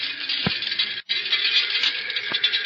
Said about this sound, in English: that's the sound of tiny particles of road dirt and dust hitting the body of your car.